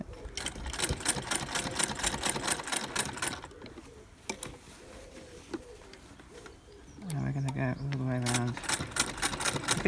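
A sewing machine stitches the top seam of a fabric bag, running back and forth in rapid bursts of clattering, with a pause of scattered clicks between bursts and a person talking near the end.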